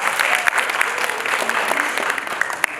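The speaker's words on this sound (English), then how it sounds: "A clap for that!" Applause from a school audience at a fashion and arts event, a dense, bright burst of many hands clapping, steady and close throughout with a few sharper individual claps.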